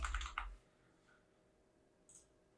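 A computer keyboard is typed on up close in a quick burst of clicks, followed by near silence and one faint click later.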